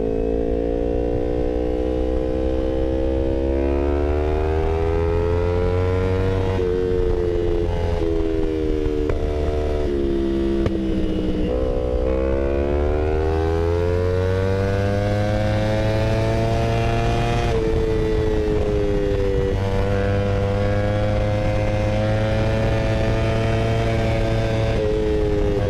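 A remapped Kawasaki Ninja 250 Fi motorcycle engine revs hard toward high RPM, its loud whine climbing and dropping in repeated sweeps, close up, with no talking.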